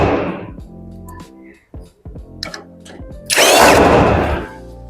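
Power drill driving bolts into the lower back panel of a two-door wardrobe during assembly, heard as short whirring bursts and knocks, ending in one loud, longer burst of drilling.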